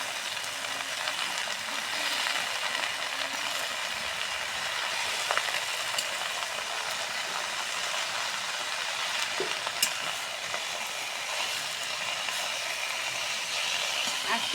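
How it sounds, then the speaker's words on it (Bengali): Turmeric- and salt-seasoned food frying in a pan on a stove, stirred steadily, giving a continuous close broadband sizzle with faint scraping clicks, no talk over it. "এখন নাড়ে দেবো।"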